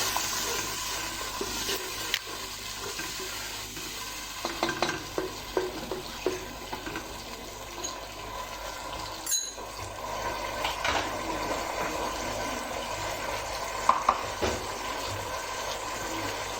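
Tomato puree gravy for beef kofta sizzles quietly in a pan while it is stirred, with a soft steady fry and intermittent scraping and clinking of the utensil, close and fairly faint, with no talking.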